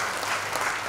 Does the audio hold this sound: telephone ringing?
no